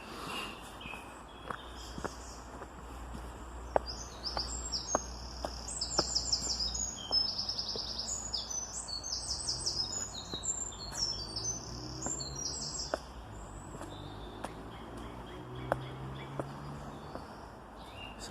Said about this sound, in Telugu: బర్డ్ సౌండ్స్ వినిపిస్తున్నాయి